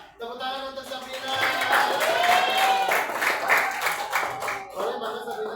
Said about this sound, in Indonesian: Tepuk tangan untuk Sabina.